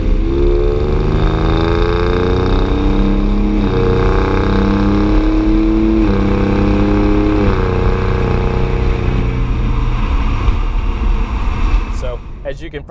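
A 2017 Ford Raptor pickup accelerates hard, its engine droning loud and steady while pitch climbs and drops back at each quick upshift through the gears, heard from inside the cab with no talk over it.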